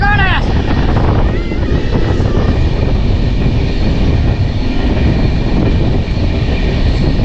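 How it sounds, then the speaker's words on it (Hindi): The Rajya Rani Express on the Patna to Saharsa line rolls over the upper level at Hathidah Junction, a loud continuous rumble of wheels on rails mixed with strong wind buffeting close to the microphone. "हमारी ट्रेन ऊपर से गुजर रही है भाई"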